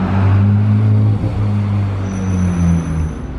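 A Porsche 911 GT3 Touring passing close by, a steady loud low engine drone that dips briefly midway and carries on, with a faint high whine above.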